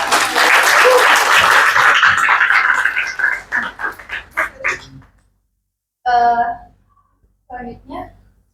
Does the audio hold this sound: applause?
yes